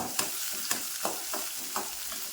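Fenugreek seeds, cumin and onion frying in hot oil for bitter gourd thokku, a soft steady sizzle broken by several sharp scraping stirs at a regular pace, close and fairly quiet.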